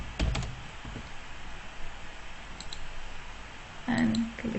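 Sharp mouse clicks, a couple at the start and another cluster near the end, sit close over a quiet room hum with no talking.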